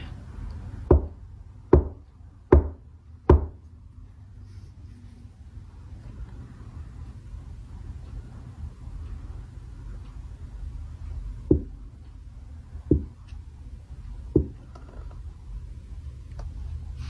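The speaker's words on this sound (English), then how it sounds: "Send a knock over here." Sharp knocks on a thick board ring out alone in a quiet room: a rapid group of four evenly spaced raps, then a pause and three more spaced knocks, loud and close.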